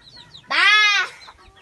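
One chicken on a rural farm gives a single loud, close cluck-like call, sharp and drawn out for about half a second amid near silence.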